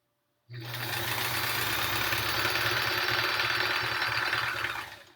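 A sewing machine stitches backing onto the Triangle Tango quilt, starting abruptly and running at a steady, fast hum for several seconds before easing off at the end.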